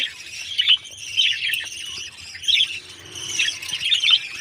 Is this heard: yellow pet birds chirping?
yes